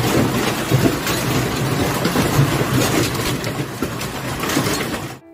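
A violent hailstorm in France pours down as a dense, loud, steady roar of pounding ice and rain, with no pause until it cuts off abruptly at the end.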